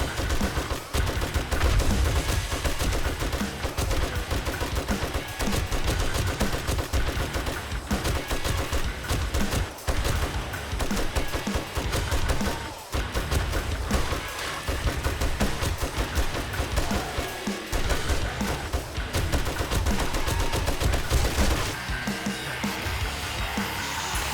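In the survival game 7 Days to Die, a gun fires loud, rapid full-auto bursts almost nonstop, one stream of shots running into the next with only short pauses.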